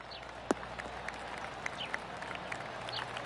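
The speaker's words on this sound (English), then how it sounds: "Oh, golf clap." Sparse, polite golf clapping from a tournament gallery after a well-played approach shot from around 120 yards, a few scattered claps at moderate distance over a soft background murmur.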